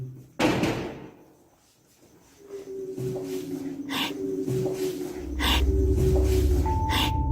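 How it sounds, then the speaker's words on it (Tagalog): A sharp door bang in a hospital at the start, followed by quieter clunks and a low rumbling hum with scattered knocks. "ang tunog ng pinto na misteryosong humampas"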